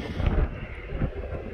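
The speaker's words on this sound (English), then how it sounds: "It's pretty windy out here right now, so if you hear the wind, I'm sorry." Wind buffeting a microphone outdoors beside a pond on a 0.6-acre lawn, a steady low rumbling roar with louder gusts near the start and around the one-second mark.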